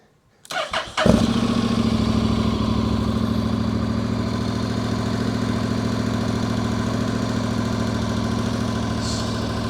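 A Honda NC750X fitted with a Black Widow 300mm exhaust, baffle in, fires up and settles into a steady, even idle. The low rumble stays loud and close for several seconds with no talk over it.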